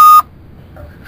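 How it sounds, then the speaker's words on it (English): A single short, loud electronic beep sounds at the very start, then only faint room noise follows. "Why is there beeping?"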